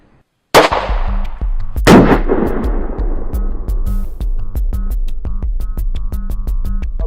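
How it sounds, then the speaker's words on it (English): A G2 round fires into a block of 12 layers of denim over gel, a single loud, sharp report with a ringing tail that decays over the following seconds. "we'll get ready to fire into these 12 layers of denim"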